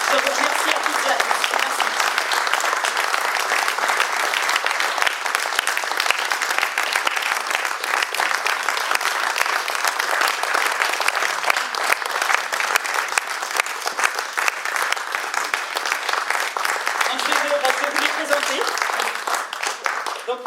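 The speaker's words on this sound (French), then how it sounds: "je vous demanderai de bien vouloir les applaudir très chaleureusement pour les encourager" A theatre audience applauds warmly at a live testimonial event, a dense, steady wash of clapping that stays loud and continuous for about twenty seconds.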